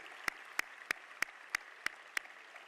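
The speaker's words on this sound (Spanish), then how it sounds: "creo que es absolutamente de justicia que hoy el pueblo de Elche lo reconozca con este aplauso de nuevo a todas vosotras, queridas reinas salientes." Sparse, evenly spaced claps, about seven sharp single hits, ring out against a quiet background as an audience applauds the outgoing queens at the Elche proclamation gala of queens and ladies.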